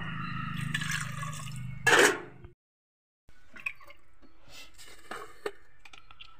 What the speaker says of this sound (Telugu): ఉడకడానికి సరిపడా వాటర్ని యాడ్ చేసుకోవాలి.